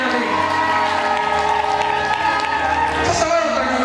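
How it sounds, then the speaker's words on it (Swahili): A church congregation at a Sunday service claps loudly over sustained music, with scattered cheers and shouts rising near the end; a voice is also heard amid the noise. "Ongeza makofi yako leo"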